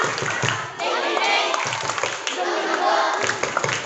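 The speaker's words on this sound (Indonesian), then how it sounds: "kita tepuk semangat ya" Schoolchildren perform a rhythmic clapping chant together during a morning literacy assembly, bursts of claps alternating with loud unison shouted syllables from the crowd.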